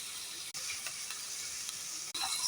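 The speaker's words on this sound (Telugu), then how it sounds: "ముందుగా మనం కట్ చేసుకున్న బంగాళదుంపలు అయితే వేసుకొని ఫ్రై చేసుకుందామండి." Cut potatoes and green peas fry in a pan with turmeric, giving a steady, close hiss of sizzling oil with two brief dropouts and no talking.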